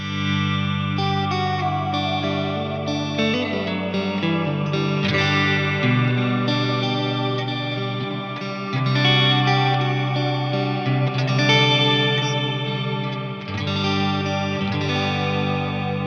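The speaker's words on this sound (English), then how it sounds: "So just the Strymon Big Sky alone sounds like this." Guitar run through a Strymon Big Sky reverb pedal set to a vowel-like choir ambient reverb, sustained shimmering chords swelling and washing together with a dense, synth-like tail, loud and continuous with no talking.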